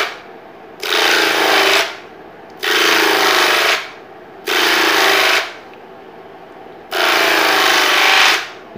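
A small low-power motor drives sandpaper across a mold for a shad fishing lure, producing four loud, steady, close rasping passes of about a second each with short quiet gaps between.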